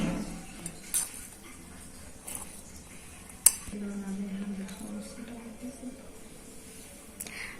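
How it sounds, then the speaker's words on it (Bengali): Flattened rice, chopped ripe mango and other ingredients are mixed in a bowl, with a spoon giving light clinks and scrapes and one sharper knock, under a quiet spoken voice. "এবার সবগুলো উপকরণ আমি একসাথে মিক্স করে নিচ্ছি"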